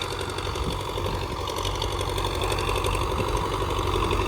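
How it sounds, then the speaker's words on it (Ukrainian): A tractor discing a field drones steadily and loudly nearby, a constant rumbling engine hum with a rattling mechanical texture throughout. "Зараз трактор їде дискує"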